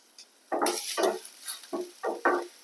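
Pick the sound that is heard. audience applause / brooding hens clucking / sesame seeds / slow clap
sesame seeds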